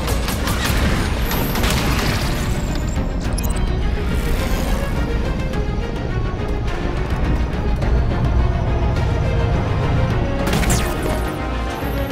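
Gunfire in Halo 5 Guardians, dense bursts of shots and booming impacts over a loud, constant battle din, with sharp blasts near the start and end.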